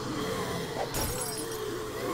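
Glass shattering inside the survival game 7 Days to Die, one sudden bright crash in the middle of a steady game ambience, with tinkling fragments trailing off afterward.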